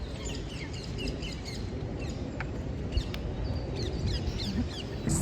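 Birds chirp and call in St. James Park in London, scattered small tweets over a steady outdoor background hum, fairly faint and with no talking.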